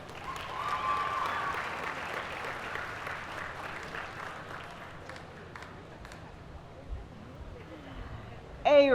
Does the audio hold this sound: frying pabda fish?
no